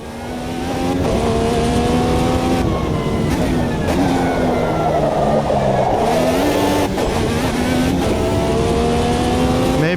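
A race car engine in the Automobilista 2 sim racing game, droning loudly and continuously while the pitch rises and falls through gear changes and corners.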